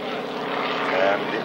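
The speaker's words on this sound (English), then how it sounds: "A big classic radial biplane, 52 years old now, the aeroplane." A 52-year-old classic radial-engine biplane flies at the 1994 Wroughton Airfield warbirds airshow, its loud, steady propeller drone swelling slightly, with a voice audible beneath it.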